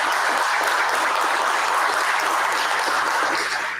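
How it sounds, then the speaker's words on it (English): Applause from an audience at a school district board of education meeting, steady and dense for the full few seconds, greeting a newly appointed high school assistant principal, tapering slightly at the end. "Let's give him a round of applause."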